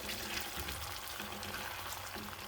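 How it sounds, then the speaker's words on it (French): Garlic, onion, bell pepper and tomatoes sauté in a pan for a Tunisian sauce, giving a steady, close, even sizzle with no voices over it. "Là, je fais revenir l'ail, l'oignon et le poivron et les tomates."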